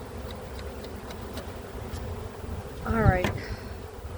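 Honey bees hum steadily around an open hive during a nuc inspection, a dense continuous buzz with nearby insect whines passing close, and a voice speaks briefly near the end.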